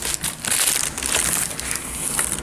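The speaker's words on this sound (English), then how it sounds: "Well, unwrap it." A mailed package, a ring light tripod, being unwrapped: continuous loud crinkling and tearing of plastic wrapping, close to the microphone, with no talking.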